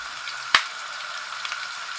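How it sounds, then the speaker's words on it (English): Fresh tomatoes cook in a pan with a steady, moderate sizzle, and a single sharp pop or tap sounds near the start. "So now Our tomato is doing well, it's cooking"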